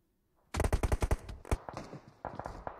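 Gunfire in the battle-royale game BGMI opens with a rapid burst of loud, close shots, followed by a few scattered single shots and some quieter bursts at the end.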